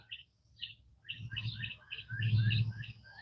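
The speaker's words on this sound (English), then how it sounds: "love the sound of birds" Birds chirp and twitter in a flower garden. Several overlapping bright calls grow busier over a few seconds, with a low humming rumble underneath.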